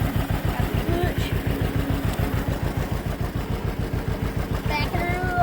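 Tractor engine running while backing out of a shed, a close, loud rhythmic chugging with rapid regular pulses, while people talk briefly over it.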